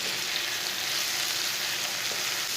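Tomato frying in a pan with salt, red chilli and turmeric, giving a steady, dense sizzle that holds at even loudness throughout, close up and with no talking.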